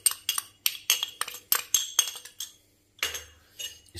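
A whisk beats two eggs with sugar in a bowl, making rapid light metallic clinks in quick bursts, close and fairly quiet, with a short pause before the beating resumes.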